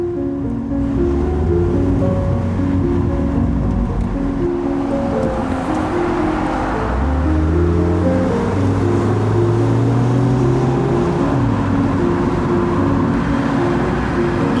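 Mazda MX-5 RF Miata sports car cruising, heard from inside as a steady loud drone of engine and road noise, its pitch rising and falling with throttle changes, with no voices.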